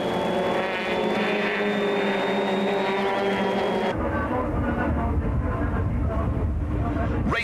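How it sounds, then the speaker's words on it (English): Super touring race cars, including a BMW and a Nissan Sentra, roar onto the pit straight at a South African championship round, a loud engine drone shifting pitch as cars pass, under a commentator's voice. "Onto the pit straight, and that's Dion Joubert in the Motorplan BMW, who is ahead of GINIEL de VILLIERS in the BP Nissan Sentra"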